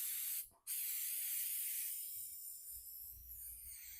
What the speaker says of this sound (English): I'm just going to use some matte finish clear coat.